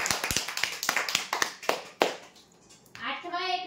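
A handful of sharp, scattered hand claps ring out at a weekly lucky-draw prize announcement as a geyser winner is named. The claps come close and fairly sparse for about two seconds, followed by a brief voice.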